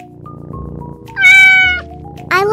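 A cat meows twice, a loud drawn-out call followed by a shorter second one, close and clear over soft background music.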